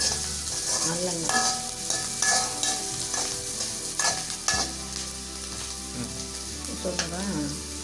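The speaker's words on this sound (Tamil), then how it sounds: "நல்லெண்ணெய் தான் இதுக்கெல்லாம் ஊற்றி வதக்கணும்." Pirandai sautéing in sesame oil in a pan gives a steady sizzle, with stirring scrapes and clinks recurring throughout, close and moderately loud.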